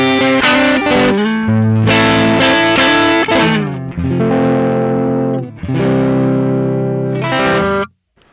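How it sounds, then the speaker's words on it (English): Electric guitar plays direct through an amp simulator for a Fender amp tone, with driven chords and ringing notes in several loud bursts separated by short gaps. "it takes this signal going direct to the sound card or a PA system, which sounds pretty average, and it turns it into a Fender amp"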